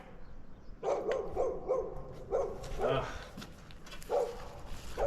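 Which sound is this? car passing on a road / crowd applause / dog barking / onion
dog barking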